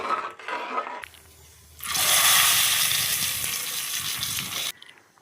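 Blended ginger mixture pours into a hot dish, triggering a loud, sustained watery rush and sizzle that runs for several seconds before cutting off abruptly, after quieter kitchen handling at the start.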